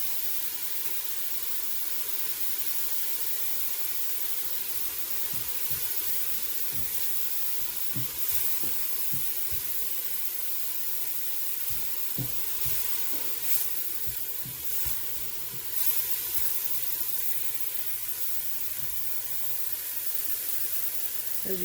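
A mushroom and shallot mixture sizzles steadily in hot oil, a constant close hiss with faint crackles and no talking, made while preparing spinach and feta muffins.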